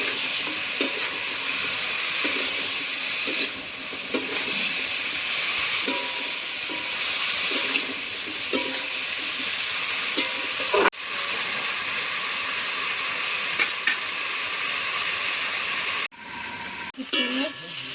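Fish-oil chorchori curry with vegetables frying in a pan, a steady close sizzle and hiss with repeated scraping stirs throughout, briefly interrupted near the end by a clatter.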